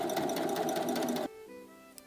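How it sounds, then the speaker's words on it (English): A sewing machine runs fast and loud while stitching the top hem of an old tote bag, then stops abruptly partway through, leaving a faint hum and a single small click. "I am going to sew the top hem."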